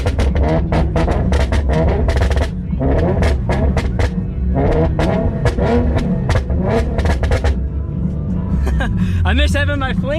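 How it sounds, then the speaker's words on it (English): A Nissan 370Z Nismo with a manual gearbox and aftermarket tune gets its throttle tapped in a rapid series of sharp, loud revs, each burst rising and falling, while people chat close by over the engine. "Keep on tapping the throttle. I got you. Yeah, just rev it, you know."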